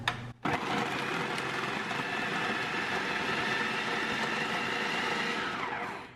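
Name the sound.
grating zucchini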